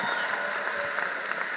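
Audience applause at a Roosevelt High School commencement ceremony for the 2026 graduating class: a steady, dense wash of many hands clapping, moderately loud and continuous throughout, with no speech.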